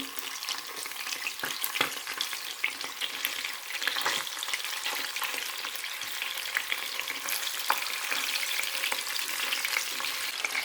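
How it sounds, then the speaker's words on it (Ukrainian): Cutlets sizzling and frying in a covered pan over moderate heat, a steady crackling hiss with scattered sharper pops and spatters throughout. "І тепер на помірному вогні смажу їх хвилини 4-5 під кришкою."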